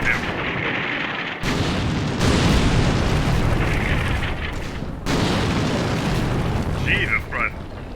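Artillery explodes in the wargame Combat Mission, set in the Rome to Victory campaign. Heavy booming blasts arrive as long rumbling bursts with abrupt starts, loud and close, and brief whistling tones come near the end.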